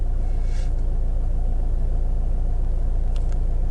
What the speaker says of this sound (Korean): 이제 아이들 상태에서는 이 엔진의 연소음이 들리는데